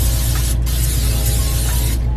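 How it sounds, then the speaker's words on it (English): A continuous hissing spray of olive oil cooking spray onto a pan, close and steady, with two very short pauses. "we're gonna go ahead and spray our pan well with olive oil spray"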